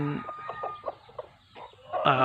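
Chickens cluck in soft, irregular bursts close by, with a louder squawk or crow-like call breaking in at the end; no talking is heard.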